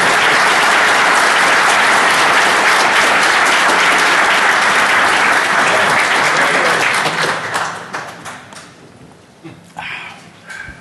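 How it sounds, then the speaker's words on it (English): A hacker conference audience at DEF CON 22 applauds new speakers taking the stage, with loud, dense clapping that holds steady for several seconds before thinning out and tapering to scattered claps. "New speakers, round of applause for our new speakers."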